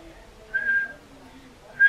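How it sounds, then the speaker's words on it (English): A person whistling two short, clear high notes, the first held briefly and the second starting just as the sound ends, faint against a quiet background. "I whistled."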